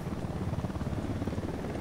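Rapid rhythmic rotor thumping of a helicopter in Tom Clancy's Ghost Recon Wildlands, steady and fairly close, with no talking.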